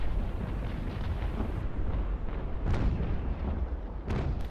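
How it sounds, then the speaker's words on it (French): Explosions in the naval action PvP video game Naval Action, heavy booming blasts rolling over a dense rumbling background, with two sharper bursts near the middle and end. "je vais vous la filmer, la belle explosion quand même."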